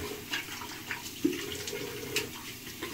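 Tap water runs steadily at a bathroom sink while a man rinses his face before shaving, a continuous close wash with a few light splashes and clinks.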